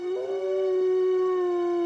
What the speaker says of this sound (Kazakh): Ана жақта қасқыр, тезірек барайық, қасқырды көреміз.